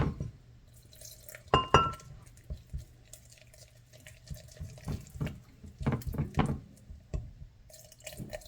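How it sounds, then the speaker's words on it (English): Tap water runs and splashes into a bowl of arepa dough mix, with clinks of glass, drips and scattered knocks and stirring sounds in short bursts at close range. "So you gotta constantly put the water in there, stir it up."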